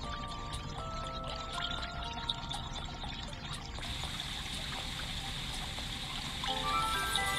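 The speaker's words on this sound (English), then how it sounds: "I'm gonna try to get that water." Water pours and trickles steadily in a 3D fountain puzzle game, a continuous soft stream with repeated faint ticking clicks early on and a slight swell near the end.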